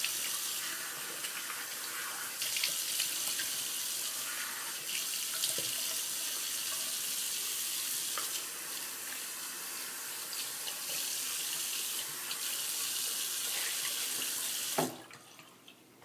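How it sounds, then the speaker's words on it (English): Tap water runs steadily into a sink as a face is rinsed after a wet shave, a continuous close splashing hiss with small splashes and shifts before it stops near the end. "Just going to rinse my face off here"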